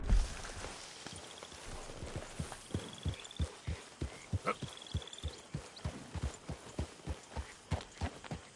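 A horse's hooves in Red Dead Redemption 2, a steady walking clip-clop that starts faint and grows into clear, even, close hoof beats on hard ground, with faint creaks between steps and no voices.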